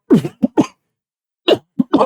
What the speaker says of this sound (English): I hate coughing on mic.